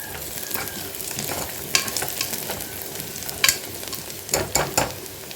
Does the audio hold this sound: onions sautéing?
yes